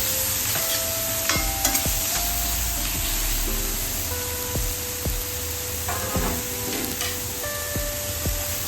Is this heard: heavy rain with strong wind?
no